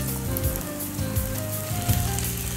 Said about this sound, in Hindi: अदरक लहसुन का पेस्ट डालकर भी सब फ्राई करेंगे।